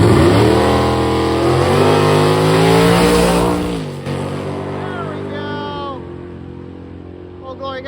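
An F-body Camaro makes a drag racing pass at a strip, its loud V8 engine revving hard through rising gear pulls before lifting off and fading as it travels away, with an announcer talking over it.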